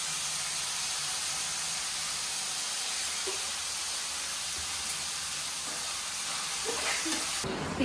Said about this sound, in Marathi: आता त्याच्यामध्ये बटाट्याचे मस्तपैकी त्याला फ्राय करून घ्यायचं.